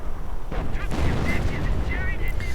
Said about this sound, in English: we are seeing artillery trying to stop all of this